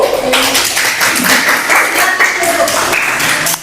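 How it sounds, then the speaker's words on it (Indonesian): A classroom gives a loud burst of clapping for a student group during a mathematics lesson, close and continuous across the few seconds, with voices and chatter mixed in. "tepuk tangan buat kelompok 1"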